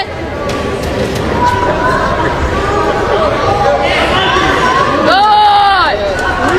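Ringside crowd at a boxing match in America shouting and calling out, a loud, dense wash of raised voices and chatter with individual yells rising above it near the end.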